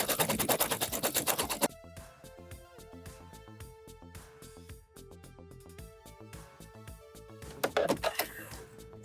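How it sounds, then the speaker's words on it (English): A sewing machine stitches two rows through heavy fabric, a rapid rattling run of needle strokes at the start and again near the end, with quieter mechanical ticking and tones between bursts. "Now I'm going to run 2 rows of stitches through on the heavy fabric."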